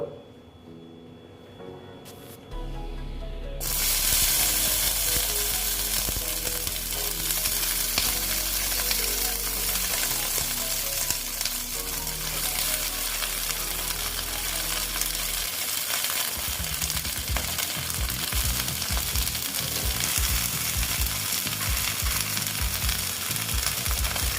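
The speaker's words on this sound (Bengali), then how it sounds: "তেলটা প্রায় গরম হয়ে গেছে এইবার আমি ঢ্যাঁড়সগুলো ভেজে নেব" Okra (bhindi) dropping into hot oil and frying with a loud, steady sizzle that jumps up after a quiet start and keeps bubbling throughout, with busier crackling near the end.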